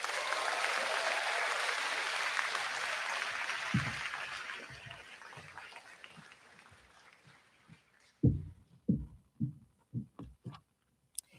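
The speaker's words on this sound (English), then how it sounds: "Let's have another round of applause for our third group of grads." Audience applause fills a graduation ceremony hall, broad and steady at first, then thinning and fading, followed by scattered thumps and knocks near the microphone.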